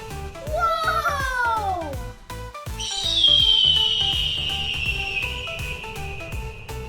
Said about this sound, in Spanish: Este es un águila.